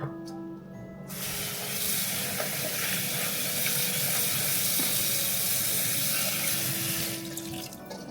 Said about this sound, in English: I'm going to do about a half a cup of cranberries. And yes, I'm going to rinse these.